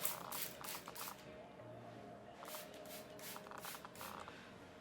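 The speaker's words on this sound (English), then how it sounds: "all I'm gonna do is spray a little bit of water on it" Water from a spray bottle mists onto a lace wig in several short, soft hissing pumps, close but quiet, over faint room noise.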